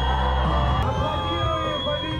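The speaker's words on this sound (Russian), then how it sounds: "Аплодируем победителю главного вида соревнований праздника." A crowd at a Reindeer Herder's Day festival cheers the reindeer sled race winner, with loud whoops, shouts and clapping blending into a close, dense roar throughout.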